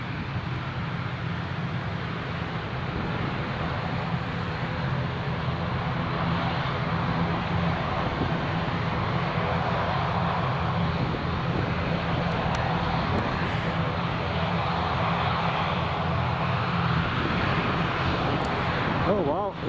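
Aircraft engines drone steadily at Newcastle International Airport, a loud continuous roar and whine that stays constant throughout, heard from a distance in open air.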